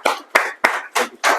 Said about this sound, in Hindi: प्रणव सर के लिए एक बार जोरदार तालियां।